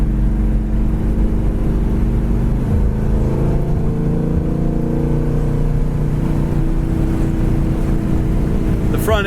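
A 1972 Buick Skylark cruises at about 70 mph and around 3,200 RPM, with loud, constant engine drone and road roar heard from inside the car.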